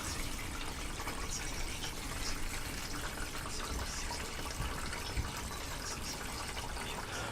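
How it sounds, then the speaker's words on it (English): Water gushes steadily through a motorhome waste pipe that is held down and then tilted at an angle, making a continuous close rushing, trickling wash with no break for the whole stretch. "holding the pipe down and then at an angle, the water can flow because it's got enough pressure"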